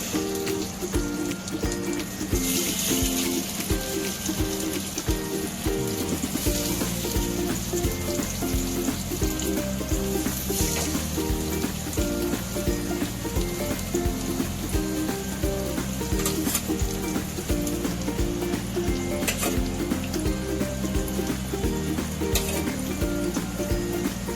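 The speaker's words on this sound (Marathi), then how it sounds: "शॅलो फ्राय करणार आहोत" Cabbage fritters shallow fry in a pan, giving a continuous close sizzle, with steady music playing throughout.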